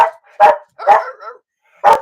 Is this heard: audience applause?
no